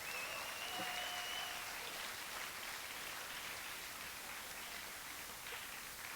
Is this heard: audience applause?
yes